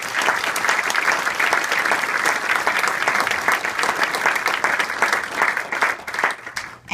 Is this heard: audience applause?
yes